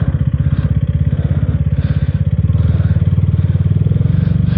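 A KTM Duke 250 motorcycle engine pulls steadily in 6th gear at low revs, a loud, close, even thrumming pulse with faint wind and no talking.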